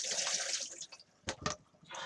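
Cicada larvae rinsed under running tap water, a steady hiss of flow that breaks off into a few short splashy bursts before the stream resumes, close and alone.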